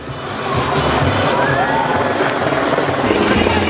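A helicopter flies over an outdoor riverside walking festival in Namyangju, its steady rotor thrum loud and continuous beneath a murmuring crowd.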